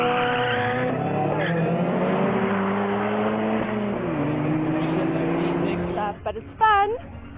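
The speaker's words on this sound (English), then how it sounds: "as wave upon wave of cars went screaming down the track" Drag racing cars roar down the track, loud engine whine with shifting pitch and tire squeal, while a voice talks over the racing noise.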